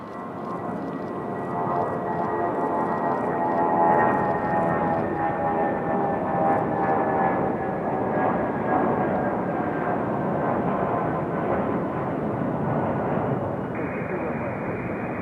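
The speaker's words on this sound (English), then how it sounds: "Nice early rotation for our Philadelphia flight." An airliner rotates early on departure for Philadelphia at Raleigh-Durham on a snowy day, giving a steady, fairly distant jet roar with a faint high whine that continues throughout.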